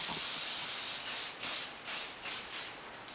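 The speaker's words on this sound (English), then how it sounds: "I usually put a spray all the way around before I start pulling it back" Hairspray from an aerosol can misted around the hair for an updo: one long continuous hiss, then five short rhythmic spritzes, close and fairly loud with no talk.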